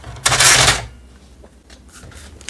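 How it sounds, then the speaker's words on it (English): Plastic paper guides in the input tray of an HP Color LaserJet Pro MFP printer being pushed aside, a short loud sliding scrape up close followed by faint handling rustles. "Push the guides to the side."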